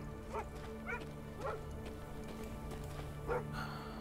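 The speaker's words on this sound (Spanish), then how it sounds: "Un perro." Dog barking in Thronebreaker: The Witcher Tales, four separate single barks spaced about half a second to two seconds apart, moderately distant over a low steady ambient bed.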